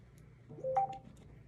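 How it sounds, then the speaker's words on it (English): A phone notification sounds once, a short electronic two-tone chime that rings out briefly over quiet room tone. "Forgot to turn my notifications down."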